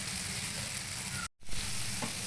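Onion, ginger and garlic masala with chili powder frying on a low flame, a dense steady sizzle broken by one brief silent gap, then resuming with a faint scrape of stirring.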